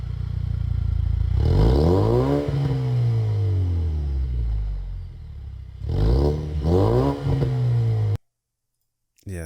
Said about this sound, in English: that's just not what a Mustang should sound like at all